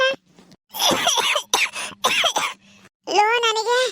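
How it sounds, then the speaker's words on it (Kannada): Harsh, close coughing from smoking a beedi: several rough bursts in quick succession, followed by a voice speaking. "ಕೆಮ್ಮು ಬರುತ್ತೆ ಬಿಡಿ ಸೇದಿದಾಗ"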